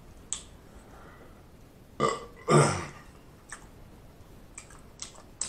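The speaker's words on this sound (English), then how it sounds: "I'm trying to get one of them real guttural burps." A guttural burp rises during a mukbang meal of Italian sausage and beef, honey BBQ wings and garlic cheese fries. Two close, loud belching bursts arrive in quick succession, with soft clicks and mouth noises around them.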